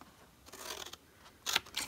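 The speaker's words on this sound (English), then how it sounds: "we're going to take our scissors and we're going to cut up to the score line" Scissors snip into a milk carton being made into a craft box, a few soft cuts followed by two sharper, louder snips close up, with no talk.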